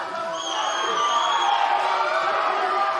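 A crowd at a bantamweight fight roars and cheers on its feet, a steady loud wash of shouting and whooping that fills the whole arena.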